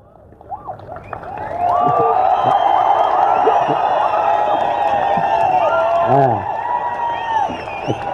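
A crowd at an NTK political rally with Seeman swells into cheering, clapping and whistles after a quiet start, then holds a loud, sustained roar with whoops rising above it.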